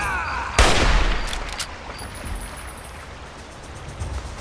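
A single loud gunshot cracks out in Fallout 3, followed by a few faint echoing pops and a decaying ambient tail.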